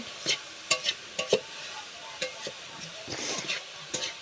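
Grated coconut being stirred in a hot pan for patishapta pitha filling, with repeated scraping strokes of a spatula at an irregular rhythm over a soft sizzle, close and moderately loud.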